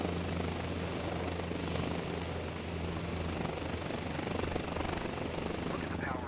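A helicopter rotor in Microsoft Flight Simulator 2024, settling into its own downwash, gives a steady, dense drone with a low hum that stays constant.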